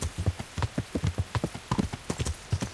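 Rapid, rhythmic clip-clop of horse hooves in the video game Kingdom Come: Deliverance, close and distinct, a steady trotting pattern with no talking.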